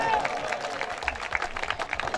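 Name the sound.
audience clapping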